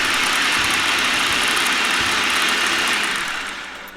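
Food processor whirring loudly and continuously as it blends a falafel mixture with cayenne pepper, a dense steady roar up close that begins to wind down at the end.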